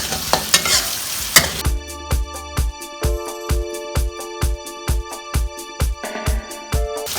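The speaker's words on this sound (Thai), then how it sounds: "ผัดก่อนนะคะเพราะเราจะได้เอาไปต้มรอในหม้อก่อน" Greens stems, spinach or Chinese kale, sizzle as they are stir-fried in a pan, with a steady rhythm of sharp spatula scrapes and clacks over continuous frying hiss.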